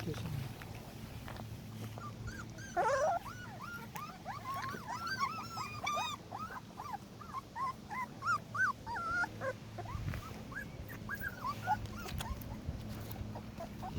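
Newborn puppies, about twenty-four days old, whimper and yip in a run of high, wavering cries, close and fairly steady, with a person speaking quietly now and then underneath.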